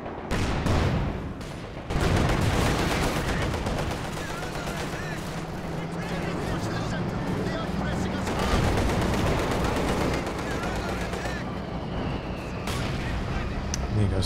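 Mortar rounds and other gunfire crack repeatedly through a dense Company of Heroes 2 battle, with sustained loud combat noise layered under a talking commentator.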